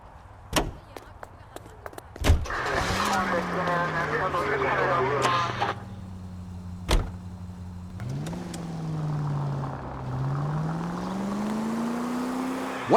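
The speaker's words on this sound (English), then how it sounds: "That sounds like a street race to me." Street-racing cars in L.A. Noire roar past, engines revving and rising in pitch through two long acceleration sweeps, fairly close and loud, with sharp thumps at the start and middle.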